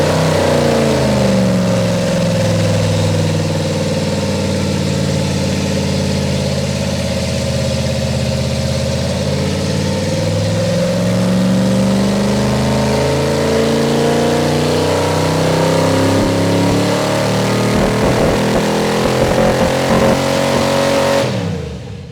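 An EFI-equipped engine revs hard for a long sustained run, its pitch climbing and holding near the top, bouncing off the rev limiter with a rough, stuttering break-up toward the end before cutting off abruptly.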